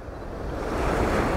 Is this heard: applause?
no